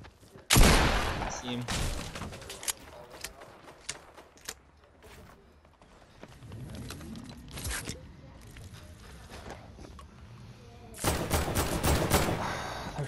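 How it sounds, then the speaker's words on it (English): Bursts of gunfire from players shooting in Fortnite, loud rattling volleys at the start and again near the end with scattered shots in between, while a player briefly talks. "somebody's shooting shit at you"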